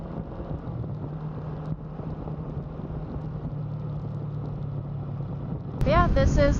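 Steady wind roar and engine drone from a motorcycle on a major highway into town, with the rider wearing a quiet helmet, continuous and close, and a voice briefly talking over it near the end.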